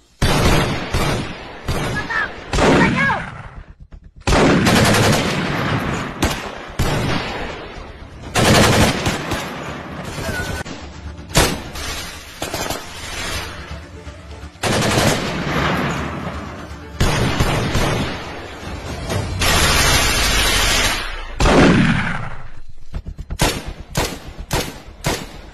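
Gunfire in an action comedy short film: repeated loud bursts of rapid shots and booming blasts, separated by short gaps, close and dominant throughout with brief voices between bursts.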